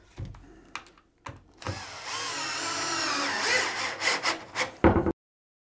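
A power drill drives long screws into wood while building a workshop sawhorse: a steady whirring run lasting a few seconds, close up, with short knocks and clicks before and after.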